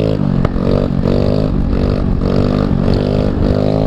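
A fast scooter with its exhaust fully opened drones loudly and steadily while riding, its buzzing engine tone rising and dipping in short repeated surges.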